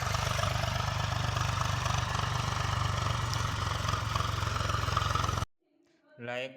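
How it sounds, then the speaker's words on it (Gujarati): A nearby farm tractor engine runs with a steady, loud low-pitched throb for several seconds, then cuts off abruptly, followed by a brief faint sound at the end. "ટ્રેક્ટર આવી ગયું છે નજીક હવે"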